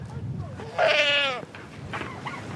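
A goat on a farm, checked during cold weather, gives one clear, fairly close bleat of about half a second, with quiet background noise around it.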